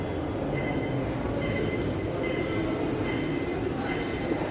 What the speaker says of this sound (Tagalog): Ayan, train. Sakay kami ng train.